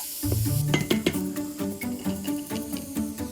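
Shallot and garlic fry in a pan as a Thai green curry base, with a bright sizzle under repeated clinks and scrapes of a utensil against the pan.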